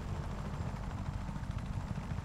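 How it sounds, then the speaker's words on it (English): Helicopter in the video game Just Cause 3, a continuous low rotor drone with a dense, rumbling texture that stays steady and fairly faint, with no talk over it. "Oh, helicopter things."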